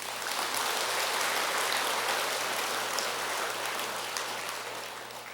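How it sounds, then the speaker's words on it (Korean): Steady broadband applause from an audience acknowledging a choir at a Buddhist temple gathering for Buddha's Birthday, dense and sustained like rain, fading slightly toward the end, with no voices over it. "박수 한번 보내주세요."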